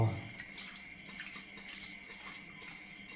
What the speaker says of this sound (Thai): ล้างเขาออกด้วย น้ำส้มสายชูนะครับ